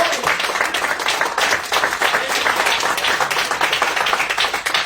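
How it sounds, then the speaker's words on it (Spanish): A church congregation at an evangelistic service breaks into loud, sustained applause, dense overlapping clapping that fills the room steadily for several seconds, with no talking. "Den un aplauso al Señor."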